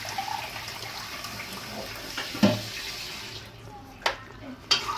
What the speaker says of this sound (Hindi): 4 और 4 8 हम पानी के डालेंगे